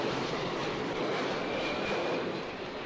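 A low-flying airplane roars over the crowded rooftops of Kowloon Walled City, a loud, steady, broad engine rumble filling the whole stretch without pause.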